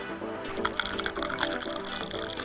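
Hot water poured over loose tea leaves inside a hollowed-out orange rind with holes poked in it, a steady close trickle and splash running throughout with small dripping accents.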